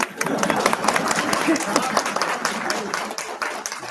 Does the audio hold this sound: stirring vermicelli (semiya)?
no